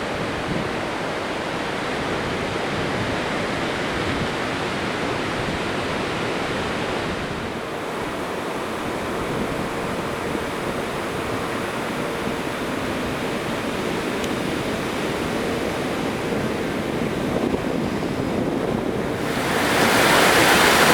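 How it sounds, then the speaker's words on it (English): Ocean waves wash onto a beach in a steady, full roar of surf that swells slightly louder near the end, with some wind noise and no voices. "let's just take a second and listen to the beach and really enjoy it"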